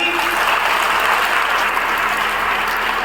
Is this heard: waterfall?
no